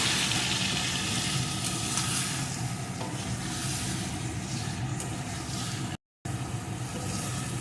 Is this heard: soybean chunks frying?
yes